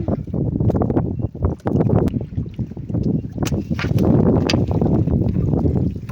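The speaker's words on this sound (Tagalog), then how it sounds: "Ang lakas din ng hangin." Strong wind buffets the microphone in loud, continuous gusts during rainy-season weather, with rumbling low noise and occasional splashing or knocking underneath.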